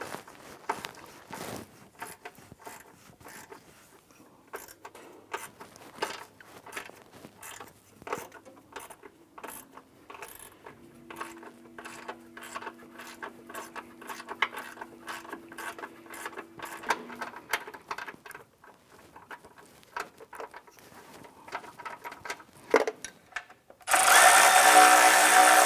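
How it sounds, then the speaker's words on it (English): A bolt is tightened on a 2001-2005 Honda Civic engine during timing belt and water pump work, heard as a quick series of metallic ratchet clicks in bursts, with a brief whirring tone midway. "So we'll go ahead and tighten this bolt down, and then we'll go back and tighten up the other two bolts."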